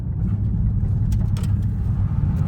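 A Mitsubishi Lancer Evolution X idles with a steady, loud low-frequency rumble, heard close up with a few faint clicks and knocks on top.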